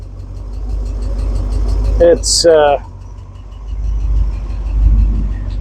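A Porsche 928 engine with good oil pressure runs steadily at idle, a low continuous drone through the clip, while a voice speaks briefly over it near the middle.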